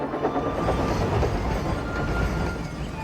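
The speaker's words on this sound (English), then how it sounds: "around the bend came Sam with his passenger train." A cartoon passenger train rumbles steadily along the track, a dense rolling clatter that stays loud and even throughout, with no voices.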